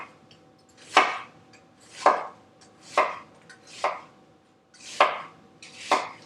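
Knife cutting thin slices of sweet onion on a board, six distinct evenly spaced chops about a second apart, close and clear with no talking.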